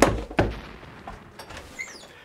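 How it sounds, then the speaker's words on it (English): Knocking at a door: a few dull thumps, including a sharper knock early on, sound at close range in an otherwise quiet room. "there's someone knocking at the door right now"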